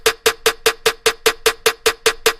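Snare hits in the build section of an electronic dance track, twelve evenly spaced sharp, bright strikes repeating steadily at close range, loud and alone with no voices.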